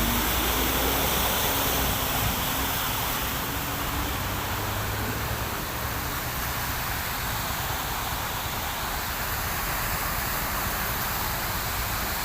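Heavy rain floods a street until it runs like a river, a steady loud broadband rush of water and rainfall filling the scene without a break, with faint low rumbles underneath and no clear talk.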